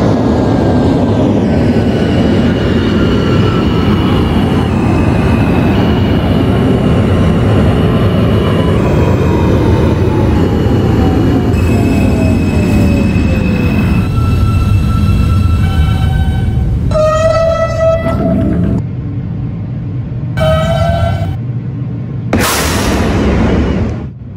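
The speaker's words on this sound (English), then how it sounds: "This is a Coney Island, Stillwell Avenue bound F local train." An R160A Alstom subway train on the F line in the OpenBVE simulator rumbles loudly and steadily with rising and falling motor whine, then gives several sharp electronic tones near the end.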